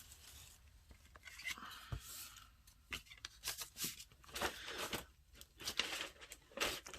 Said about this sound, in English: So I'm just going to take my scissors and do the best I can.